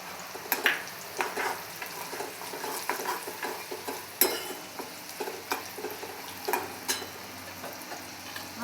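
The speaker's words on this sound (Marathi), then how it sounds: "आता हे सगळं मिश्रण चांगलं तळलं गेलंय" Maharashtrian tempering (phadni) with salt and a little sugar sizzling and frying in a pan, with spoon stirring scrapes and taps recurring in irregular bursts at close range and no voices.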